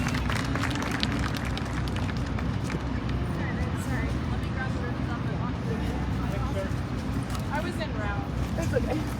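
An arena crowd at the 2019 Arizona National prospect cattle show claps in a steady, dense patter, with an announcer talking over it and a low rumble of the show ring beneath.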